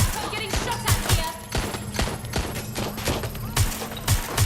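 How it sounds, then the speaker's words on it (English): Sustained gunfire in the Watch Dogs Legion video game pours toward the player as rapid, loud shots and bursts repeat across the whole stretch over a steady rumbling game mix. "I'm getting shot at here."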